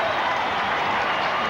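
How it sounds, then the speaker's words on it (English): A large crowd at a rugby league match at Leichhardt Oval gives a sustained ovation, dense steady applause and cheering that fills the whole moment at even loudness. "Michael Neal replaced to another great ovation from this terrific crowd"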